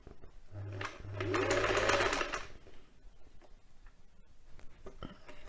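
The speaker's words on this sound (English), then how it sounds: "so we're going to put the needle down and start sewing" A domestic sewing machine stitches a quilt cover in a short, soft run of about a second and a half, with faint handling noises before and after.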